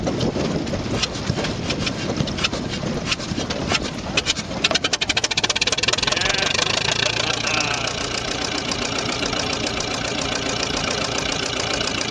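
An old Lister JP4 engine runs steadily with a rhythmic knocking chug throughout, loud and close, with no voices.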